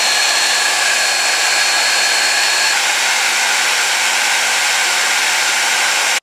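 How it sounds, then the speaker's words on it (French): A hair dryer pre-drying a blonde highlight wig, a loud, steady, close whoosh of blowing air that holds constant for several seconds and then cuts off abruptly. "je vais essayer de blow dry juste pour voir en fait ce que ça va faire"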